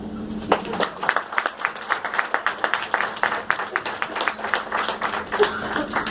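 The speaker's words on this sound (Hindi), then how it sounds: "आप अपने लिए तालियां भी बजा सकते हैं" Applause from a seminar audience, rapid claps rising into a dense, steady patter that holds for several seconds at moderate loudness, heard close in a hall.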